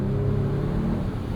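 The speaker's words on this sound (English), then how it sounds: "Even when you push this button and put the exhaust into loud mode" Muted exhaust of a 2025 Mercedes-AMG CLE 53 Cabriolet with its 443 hp turbo inline-6 in loud mode, a steady low rumble and drone that holds constant without any sharp revs.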